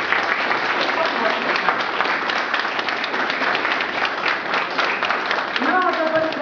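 An audience at a concert or ceremony applauds in a dense, steady burst of clapping that continues throughout, with a voice starting to speak near the end.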